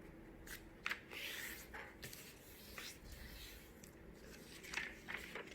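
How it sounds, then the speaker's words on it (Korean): A printed paper sheet being folded in half by hand: a few soft, close crinkles and brief scraping rustles of paper, quiet and intermittent. "이렇게 반을 접어주세요."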